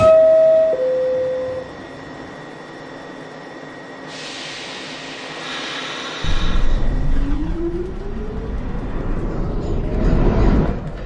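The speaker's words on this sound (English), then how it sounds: "Stand clear of the doors are closing." A New York City subway train's door chime sounds, the doors close, then the train rumbles and whines as it pulls out of the station, building louder toward the end.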